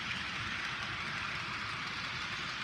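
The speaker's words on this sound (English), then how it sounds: "The only sound you can hear is the sound of the wheels rumbling along the tracks." Soft, steady rumbling of a Bachmann Thomas and Friends James model train's small wheels rolling along track, a faint continuous whirr with no voices.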